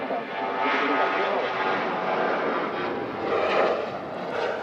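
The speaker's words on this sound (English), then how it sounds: "There is the Emirates Airbus A380 arriving on stand" Emirates Airbus A380 rolling onto its stand at Manchester Airport, a broad, sustained engine roar and whine from moderate distance, swelling slightly toward the end.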